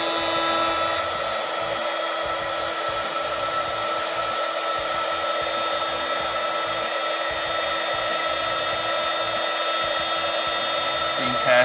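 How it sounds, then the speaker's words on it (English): A heat gun blows a steady, even whoosh over EVA foam being sealed for a shoulder pauldron, running continuously near and loud throughout with no breaks. "I'm going to get the heat gun and close up the foam cells with a little bit of heat."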